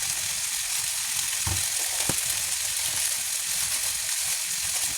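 Chicken breast frying in a pan, a steady loud hiss of sizzling oil throughout with a couple of brief utensil knocks partway through.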